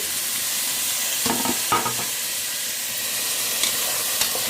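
Half a kilo of chopped tomatoes hits a hot frying pan for tomato rice, giving a loud, steady sizzle with a few faint stirring clacks, close and continuous.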